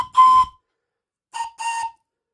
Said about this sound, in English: The engines whistled excitedly.